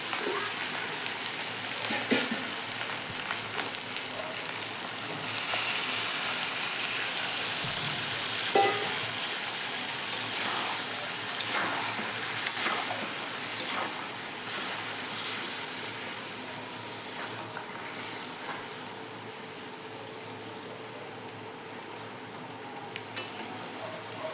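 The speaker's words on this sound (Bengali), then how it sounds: "মশলাটা দিয়ে খুব ভালো করে কষাই নিচ্ছি আমি এতে কিছুটা জল দিয়ে দেবো" Chicken chaap masala fries in a pan with a steady, rain-like sizzle and crackle, punctuated by occasional spoon scrapes and knocks as the spiced mixture is stirred up close.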